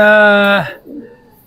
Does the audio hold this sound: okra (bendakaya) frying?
no